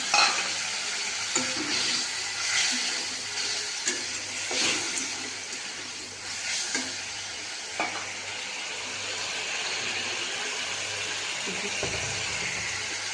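Eggs stirred and frying in a pan of bubbling egg curry, a steady sizzle with scraping stir strokes recurring throughout, close and fairly loud, no talking.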